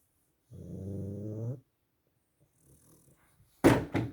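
A pug gives one long, raspy snoring rumble up close, then the room falls quiet before a couple of sharp knocks or bumps near the end.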